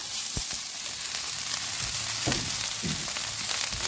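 Rice frying in oil in a pan while cooking homemade hibachi, a steady close sizzle with a few soft stirring clatters, heard alone with no talk.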